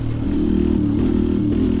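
Cold Honda Fan motorcycle engine just started and revving, a steady loud low rumble with slight rises and clattery exhaust texture, no backfire pops standing out, close by.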